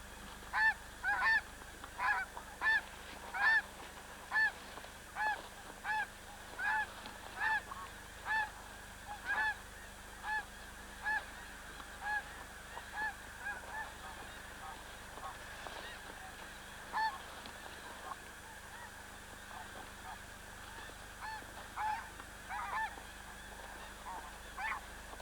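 A flock of geese in the snow honks repeatedly and rhythmically, the calls fairly close and carrying over a low steady background hum.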